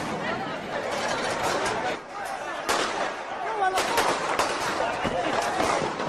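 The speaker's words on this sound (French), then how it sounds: "Des coups de feu retentissent." Sharp sniper gunshots crack out at irregular intervals over a noisy crowd of shouting, agitated voices outdoors in Venezuela.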